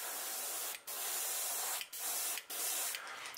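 Paint sprayed in thin coats onto a pumpkinseed-pattern crankbait fishing lure, heard as a close, steady hiss broken by three short gaps, with no voices.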